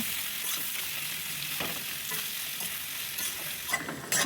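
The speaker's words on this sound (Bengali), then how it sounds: "পেঁয়াজগুলোকে আমি কিছুক্ষণ সময় ধরে ভেজে নিচ্ছি।" Sliced onions frying in a hot pan, a dense continuous sizzle with light stirring scrapes throughout, close and steady, no voices.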